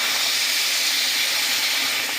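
Water added to a hot pan of jackfruit curry with green chillies, producing a steady, loud, close steaming hiss that holds evenly throughout.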